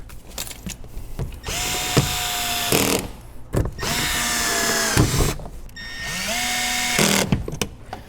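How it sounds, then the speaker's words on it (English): A power drill drives screws back in while speaker panels are refitted in a Toyota 4Runner, several close, loud whirring bursts with rising and falling pitch, separated by brief pauses. "screw these screws in"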